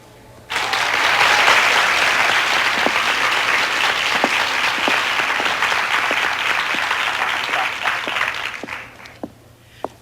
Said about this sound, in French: Je vous demanderai de l'encourager chaudement par vos applaudissements.